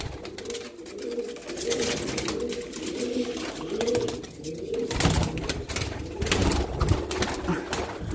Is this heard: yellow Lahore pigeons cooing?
yes